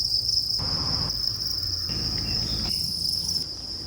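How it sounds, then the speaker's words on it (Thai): Crickets raised as feed on a bearded dragon farm chirp in a loud, continuous high trill close by, with rustling and shuffling noises coming and going beneath it. "จิ้งหรีดคืออาหารของกิ้งก่าครับ"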